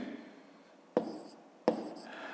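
A pen writes down a math answer during a fifth-grade exercise: two short, sharp taps and scratches on paper, fairly faint, against a quiet background.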